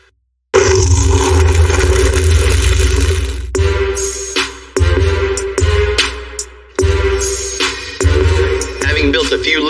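A lifted Chevy 5500 truck's engine fires up loudly, then roars through a series of sharp revs, each surge cutting off and climbing again in an uneven rhythm, close and dominant.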